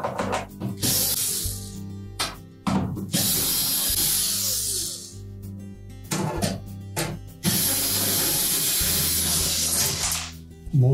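A power driver backing 1/4-inch hex head screws out of a Whirlpool refrigerator's back panel, loud whirring bursts repeating with short pauses between them, close by and without speech.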